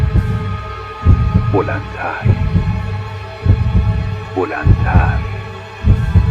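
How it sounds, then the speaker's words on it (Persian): A heavy, throbbing heartbeat pounds in slow double thumps over a low hum in a horror story, loud and steady, while someone narrates in Persian over it. "این صدای تپش قلب نحسشه"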